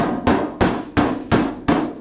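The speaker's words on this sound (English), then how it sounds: "get it seated with the hammer" Hammer tapping a sheet metal duct 90 fitting with turning vanes to seat it, six sharp metallic strikes at an even, unhurried pace, each ringing briefly before the next, close and clear with no talk.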